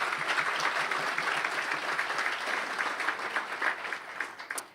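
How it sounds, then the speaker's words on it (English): An audience claps for volunteers at a members' event, a dense burst of hand applause that stays steady and then tapers off at the end. "Give them a big round of applause."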